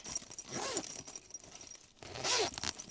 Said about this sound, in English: Zip on the top, which goes into the bag.